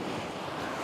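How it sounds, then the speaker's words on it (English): Ocean waves surge and break on a summer beach at a family campsite, a steady broadband wash of surf with wind buffeting the microphone, close and continuous with no talking. "look at the beautiful waves out here"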